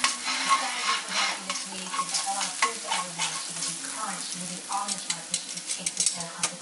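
A pork chop's fatty edge fries in a hot pan for a balsamic, rosemary and ginger recipe, giving a steady close sizzle broken by scattered clicks and scrapes of stirring.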